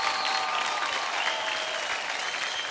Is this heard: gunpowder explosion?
no